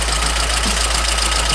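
A VAZ car engine runs steadily at idle, a constant low drone with a light knocking texture, close and unbroken, with no voices.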